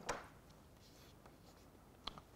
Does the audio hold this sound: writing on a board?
yes